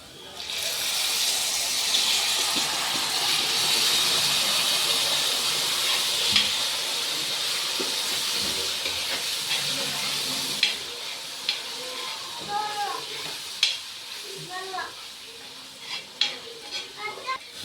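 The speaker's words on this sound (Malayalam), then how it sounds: "ഇതിലേക്ക് നമ്മൾ വേവിച്ചിരിക്കുന്ന ചിക്കൻ മക്കോടി ഇട്ട് കൊടുക്കാൻ പോവുകയാണ്" Chicken gizzards cook in a pan of gravy, giving a continuous bubbling hiss and sizzle with stirring clinks that grow more frequent toward the end, close by, and a voice speaks over part of it.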